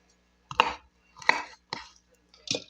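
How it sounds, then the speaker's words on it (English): Broccoli being chopped with a knife on a cutting board, four separate crisp cuts spaced about half a second apart, close and alone with quiet gaps between. "I'm going to go ahead and start tossing them in there"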